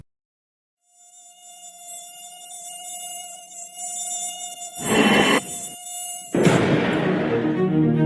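A mosquito buzzes in a thin, high whine that rises out of silence and grows louder as it comes closer, with brief bursts of broadband noise near the end.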